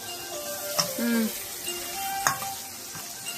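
Food stirred in a hot pan, a soft sizzle broken by a few sharp spoon clicks against the metal, with faint background tones and a brief voice-like murmur.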